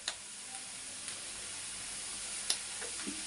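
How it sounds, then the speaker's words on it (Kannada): Green chilies fry in a pan of oil, a faint, steady hiss with a few soft clicks and taps from a spoon against the pan. "ಈಗ ಇದನ್ನೊಂದು ಸ್ವಲ್ಪ ಫ್ರೈ ಮಾಡ್ಕೊಳ್ಳಿ"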